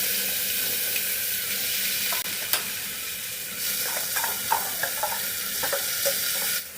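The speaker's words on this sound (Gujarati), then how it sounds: "અડધી ચમચી આપણે રાઈ એડ કરીશું, અડધી ચમચી જીરું અને અજમો એડ કરીશું વઘારની અંદર" Mustard seeds, cumin, ajwain and fenugreek temper in hot oil for Kathiawadi khichdi, giving a bright continuous sizzle punctuated by several spoon clinks and stirring taps.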